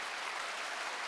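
Brief, steady burst of dense clapping from a seminar audience applauding themselves during a talk on auto sales careers, a uniform wash of many hands with no voices.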